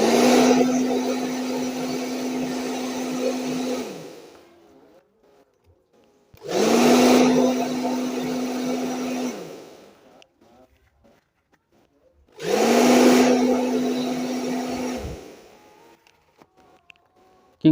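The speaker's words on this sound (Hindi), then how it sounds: "तो हमारा जो हेयर ड्रायर होता है उससे हम इस पीसीबी को सुखा लेते हैं" Handheld hair dryer blowing air to dry a Boat Rockerz 335 Bluetooth earphone circuit board during repair, running in three steady whirring bursts of about three seconds each with short silent gaps between.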